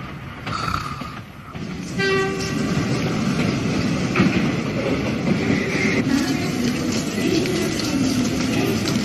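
A train runs on its rails at a station, a steady rumbling roar with a brief horn-like tone early on, moderately loud and continuous with no voices.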